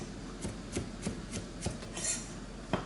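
A knife minces onion, green onion and zucchini on a cutting board in a kitchen, giving a series of rhythmic chopping taps, fairly close and moderately loud, with no talking.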